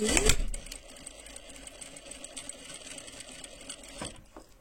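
A sewing machine with a presser foot stitches at its longest stitch length, a sharp clunk at the start followed by a steady, fairly quiet mechanical whirr and tapping, ending with a brief knock.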